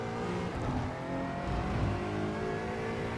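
A racing-simulator Aston Martin Vantage GT4 at full throttle on the Suzuka Grand Prix circuit, its engine note a steady, loud, rising drone with dense harmonics and no pauses, exiting a corner.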